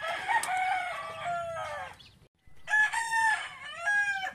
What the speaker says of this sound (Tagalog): Dito pala yung kulungan natin guys. At mga sisiw.